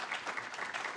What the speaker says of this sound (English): Give them a round of applause for being here.